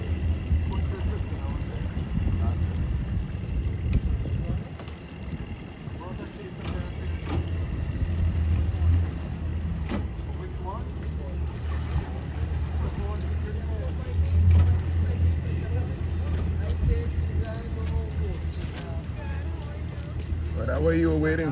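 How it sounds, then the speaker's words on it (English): A Great Race powerboat with four engines at the back drones with a steady low rumble, heard at a moderate distance beneath people talking and some wind. "This one has 4 engines in the back."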